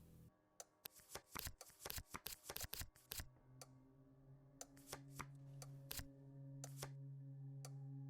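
Tarot cards are shuffled in a horror mystery video game, giving a quick burst of crisp riffling snaps followed by a few sparse card taps over a soft sustained game hum.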